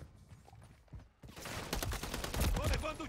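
Rapid gunfire bursts from the video game Call of Duty Modern Warfare III, quiet at first and then building into dense, sustained shooting with sharp cracks and clatter.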